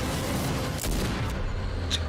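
Bursts of rapid gunfire crackle amid booming explosions in the video game Rainbow Six Siege, dense and continuous, with sharp shots standing out over a noisy battle background.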